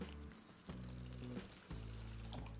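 About one and a half tumblers of water pour into a tamarind gravy for oil-fried brinjal, a soft, steady liquid flow in two short stretches, quiet and close.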